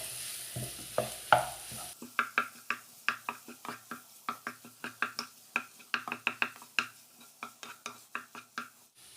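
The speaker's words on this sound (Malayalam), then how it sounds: "ഉടച്ചെടുത്തതാണ് അതും കൂടെ ചേർത്ത് കൊടുക്കാം നമുക്ക് ഈ മസാലകളെല്ലാം നല്ലതുപോലെ മിക്സ് ചെയ്തെടുക്കാവേ" A spoon stirs and mixes mashed boiled potatoes with spices in a pan for a rava snack, giving a steady series of close, sharp scraping knocks at a quick rhythm, following a short soft sizzle at the start.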